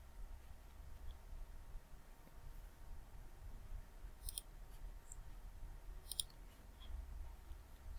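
Two sharp, faint clicks of a computer mouse pressing OK in a spreadsheet dialog, spaced about two seconds apart over a quiet background hum with no talking.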